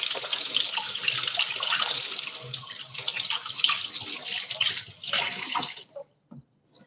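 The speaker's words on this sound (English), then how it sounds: "first I'm going to just wash my hands" Running tap water pours steadily over hands being washed at a kitchen sink, a close continuous splashing rush that cuts off near the end, followed by a couple of faint handling sounds.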